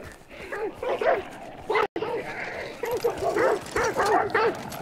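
Dogs in Hunt: Showdown bark and whimper in a restless run of yips and whines, loud and close, mixed with game noise and a brief drop to silence partway through.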